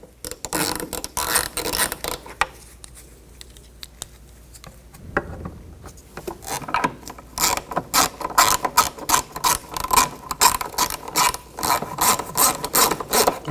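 Ratchet wrench tightening the tail light bolts on a 2004-10 Toyota Sienna, a quick run of clicks early, then a long, loud stretch of rapid, rhythmic clicking close up with no talk.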